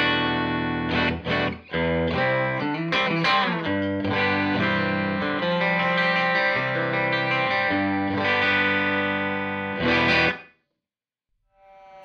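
A distorted electric guitar amp is heard through a Suhr Reactive Load with room mics, playing chugging riffs and chords with chorus and echo, then stopping abruptly near the end.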